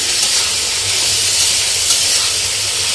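Vegetables sauté in hot oil in a black iron pan while pavta beans cook, giving a steady close hiss and sizzle that holds without a break.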